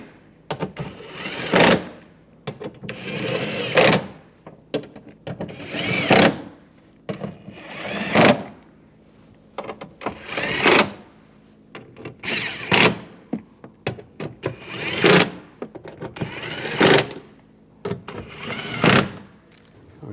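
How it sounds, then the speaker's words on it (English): A power tool drives bolts on a 2011-2018 Ram 1500 rear exterior door handle in roughly nine short bursts spaced evenly. Each burst is a brief whirring spin with a high whine at its end, separated by quiet gaps. "Tighten these bolts down."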